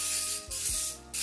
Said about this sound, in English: I just get just enough spray so that it'll grab all the areas.